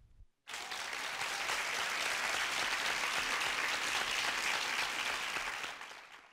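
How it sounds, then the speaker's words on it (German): An audience stands and applauds after a speech. The clapping is loud and sustained, builds quickly after a brief silence and fades slightly near the end. "Alle stehen auf und klatschen."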